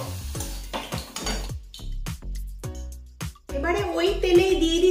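Fried potato pieces lifted from a pan of hot oil with a metal spatula, bringing quick scraping clinks and knocks against the pan over a soft sizzle, with someone talking nearby.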